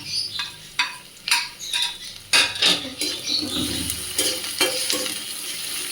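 Chopped garlic stirred in hot oil in a frying pan for a Bengali raw papaya fry, a utensil scraping and clinking in repeated strokes over a steady close sizzle.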